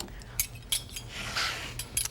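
A serving dish is taken out and handled, making a few sharp clinks and knocks of crockery and utensils, with soft rustling between them.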